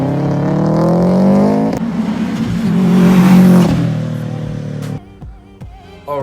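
A loud Subaru engine revs hard, rising and falling through two long pulls before dropping to a rough, uneven idle with brief throttle blips at the end.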